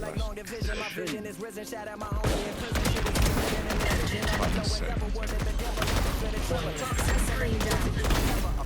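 Rapid bursts of gunfire from a competitive tactical shooter match, loud and dense, with overlapping shots and impacts layered under music and game effects for most of the stretch.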